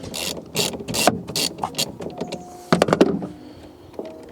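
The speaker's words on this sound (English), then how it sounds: "Loosen the nut" A hand ratchet clicks in quick bursts as it loosens the nut on a car battery terminal, close and crisp, with short pauses between strokes and a metallic rattle near the end.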